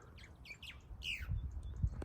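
Birds chirp and tweet near a nest in bushland, a series of short, fairly faint calls over low rustling and footstep rumble outdoors.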